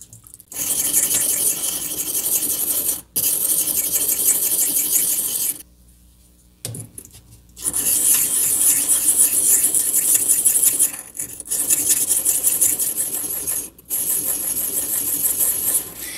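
Knife blade rasping repeatedly across a wet pocket sharpener stone, close and loud, in long steady grinding passes broken by short pauses.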